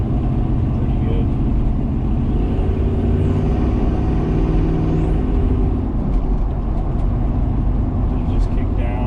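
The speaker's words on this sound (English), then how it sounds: "Just kick down and engage overdrive there after I accelerated" A 1985 K5 Blazer accelerates down a smooth road and kicks into overdrive, its engine rumbling loud and steady from inside the cab, with the pitch shifting as the gear changes.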